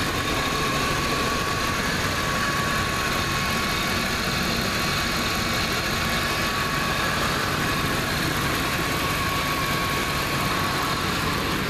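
A regular-cab short-bed Dodge pickup truck engine runs steadily at idle with a slight valve tap, a loud continuous drone with a ticking texture and no talking.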